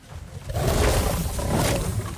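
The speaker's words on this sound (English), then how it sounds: "Gotta get the pyro wet. Have it do its roar." A pyromane creature in the survival game ARK lets out a loud, sustained roar lasting about two seconds, a broad rumbling growl that swells after a brief start and holds steady.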